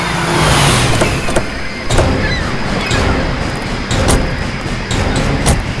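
A car slows to a stop, with loud, close engine and road rumble, a brief falling tone at the start and a few soft thumps spread through the steady noise.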